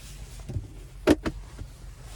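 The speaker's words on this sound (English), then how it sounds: "we do get a power sunshade, which is actually pretty impressive, I think. So that's motorized" The motorized power sunshade of a 2025 Hyundai Kona Limited slides under its sunroof with a faint electric whir, followed by a couple of soft clicks and thumps inside the quiet cabin.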